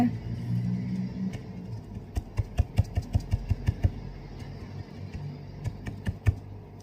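Keys tapped on a computer keyboard, a quick run of sharp clicks in the middle followed by a few scattered taps, over a steady low rumble in the background.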